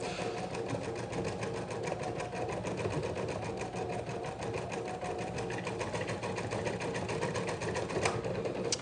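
An embroidery machine stitching a design onto a hoodie runs in a steady, fast mechanical chatter of needle strokes, close and continuous without pause and with no talking.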